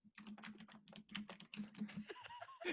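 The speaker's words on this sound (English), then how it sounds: "I know you can hear the typing of the mic." Keyboard typing picked up by a podcast microphone, a rapid run of close, crisp key clicks with a faint chuckle near the end.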